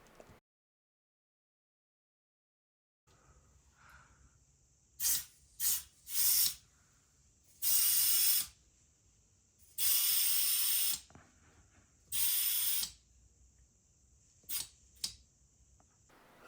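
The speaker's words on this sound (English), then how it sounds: "Just pump it up to pressure" A hand pump inflates a tubeless bicycle tire, with a series of sharp hissing air bursts of varying length heard close up over a faint steady whine and mechanical clicks. No one talks.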